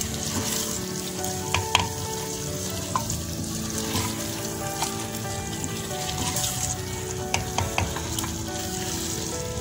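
Chicken coated in biryani masala fries in a pan with a loud, continuous sizzle, broken by scraping and knocking as it is stirred. No one speaks.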